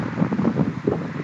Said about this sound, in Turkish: rüzgar da hiç duracak gibi gözükmüyor